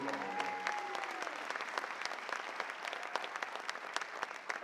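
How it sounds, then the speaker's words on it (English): An audience applauds steadily, a dense crackle of many hands clapping at an even level for several seconds, with a faint tone fading early on. "So please give Ridge a round of applause for the beautiful lady."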